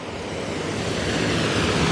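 Water rushing fast over a spillway after heavy recent rain, a steady broadband roar close by that swells slightly louder toward the end, with no talk.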